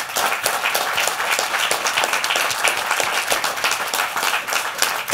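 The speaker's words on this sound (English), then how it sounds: "I would like a huge round of applause for our social entrepreneurs." Audience applause for social entrepreneurs at a high impact ventures showcase: steady, dense clapping from a large crowd that holds an even level throughout, with no voices standing out.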